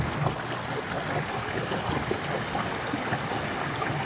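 Floodwater from heavy rain rushes through a neighbourhood in a continuous broadband wash of flowing water, steady and fairly loud, with no voices over it.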